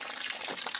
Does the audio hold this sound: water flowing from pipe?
yes